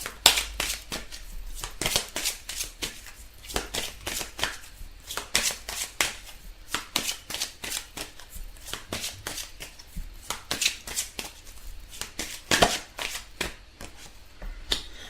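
Angel oracle cards shuffled by hand in a steady series of crisp riffling snaps and soft slaps, close and fairly quiet, repeating rhythmically throughout with no talking.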